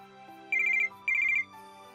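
A phone ringtone for an incoming call plays two short bursts of rapid electronic trills, clear and close, separated by a brief pause.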